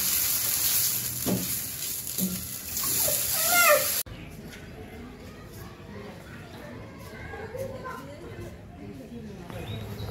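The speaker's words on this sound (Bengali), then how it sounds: "এখন জল দিয়ে দিই" Water added to sautéed vegetable curry in a simple village kitchen sets off a loud hissing sizzle for a few seconds, then the cooking settles into a quieter bubbling with faint clatter.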